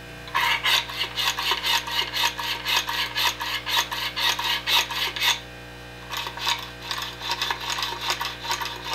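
An AR-15 M4 rifle action fouled with sand, worked back and forth in repeated quick metal-on-metal scratching strokes, loud and close, with a brief pause before the gritty rasping resumes.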